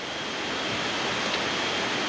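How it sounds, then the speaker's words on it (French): A small waterfall in a garden in Bali gives a steady, even rushing hiss of falling water, close and continuous with no other sounds. "Petite cascade au départ du jardin."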